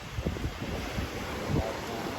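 Strong, steady wind buffets the microphone on a mountain cliff during a fishing trip, a constant broadband rush with a few louder gusts and no talk.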